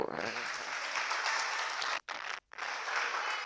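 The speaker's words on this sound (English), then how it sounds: "you clap for me also" An audience at a health awareness campaign on hypertension and diabetes claps in a steady, dense burst, briefly cutting out twice near the end before resuming, moderately loud.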